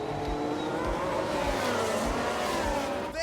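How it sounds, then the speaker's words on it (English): Race cars roar loudly and continuously in the F1 Manager 22 racing game at Abu Dhabi, with a high whining engine drone and a brief crash-like disturbance near the end. "Sounds like there's been a crash."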